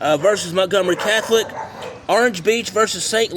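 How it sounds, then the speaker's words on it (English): Dogs barking nearby outdoors, several yips and barks mixed in with a voice reading sports results, loud and close throughout. "There's dogs nearby that are barking out here."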